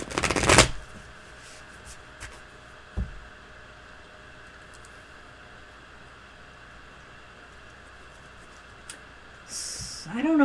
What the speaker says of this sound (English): Shuffle good, Mr. O